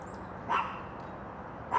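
Two short dog barks spaced about a second apart, faint and somewhat distant, over quiet background hiss.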